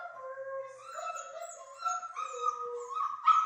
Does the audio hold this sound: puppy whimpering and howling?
yes